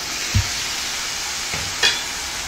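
Tomato paste and masala sautéing in hot oil for a mushroom gravy, a steady close sizzle with a few soft clicks of stirring.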